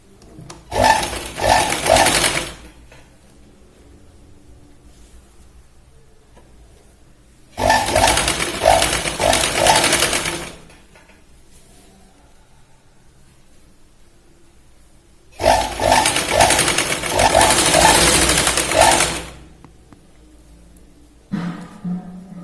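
A sewing machine stitches a boat-neck kurti in three separate runs of about three seconds each, with long quiet gaps between them and a faint low hum underneath.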